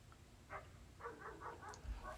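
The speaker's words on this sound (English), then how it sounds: "I hear you, dog." A dog barks a few times, distant and faint, in a quiet indoor setting, with short separate woofs spread across the moment and no voices.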